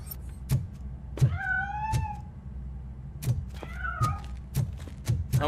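A cat meows in the RoboCop video game, two drawn-out rising mews over a steady engine-like drone and scattered sharp clicks and thuds.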